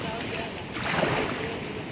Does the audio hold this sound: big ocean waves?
yes